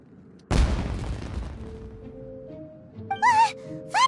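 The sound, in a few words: explosion in Genshin Impact video game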